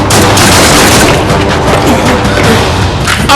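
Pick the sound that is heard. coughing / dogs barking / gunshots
gunshots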